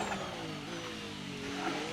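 Cadillac F1 race car engine in the F1 26 racing game, a steady sustained mid-pitched drone with smooth harmonic engine tones holding level throughout, no talk over it.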